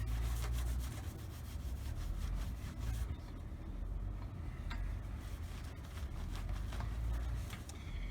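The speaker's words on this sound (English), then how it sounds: "I like using scouring pads to remove the remaining clear coat." A scouring pad scrubs the remaining clear coat off the ugly, flaking paint of an old car, a steady close abrasive rasping that runs continuously with a low rumble beneath.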